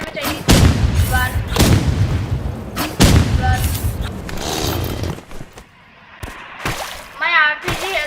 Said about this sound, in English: My RPG has only 8 ammo left